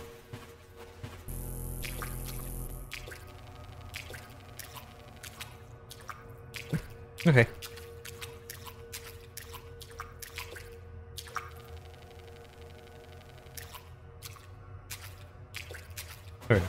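Wading through water in a LiDAR exploration video game, a series of soft splashing, dripping squishes at an uneven pace, with a brief word spoken.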